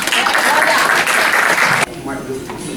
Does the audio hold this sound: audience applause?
yes